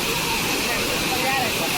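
Steady, loud roar of a waterfall pounding into a pool where people swim, a dense unbroken wash of falling water filling the whole clip close to the listener.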